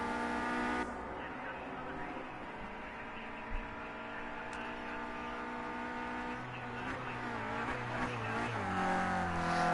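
Renault Clio Cup race cars run in Project Cars 2, a steady, humming engine drone that rises in pitch as the revs climb toward the end, joined by a lower second engine tone.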